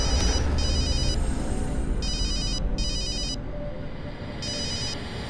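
A phone rings in four short electronic trilling bursts with gaps between, clear and near over a low background rumble.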